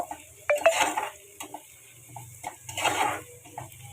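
Onions and spices frying in a pan, with a utensil scraping and clinking against the metal in bursts between gentle sizzling.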